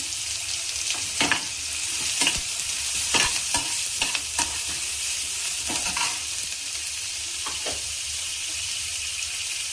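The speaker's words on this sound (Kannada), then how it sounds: "ಈಗ ಇದನ್ನೆಲ್ಲ ಫ್ರೈ ಮಾಡ್ತೀನಿ." Curry leaves and spices frying in a pan for a lady's finger sambar, a soft continuous sizzle and hiss broken by scattered stirring scrapes and pops.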